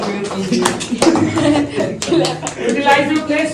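Classroom group of students clapping for a student speaker, uneven claps of moderate loudness with some chuckles and voices mixed in.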